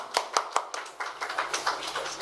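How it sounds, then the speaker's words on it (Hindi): Audience applause at an awards ceremony, a few sharp separate claps at first and then a steadier smattering of hands, moderately close with no talk over it. "जोरदार तालियां बजाइएगा"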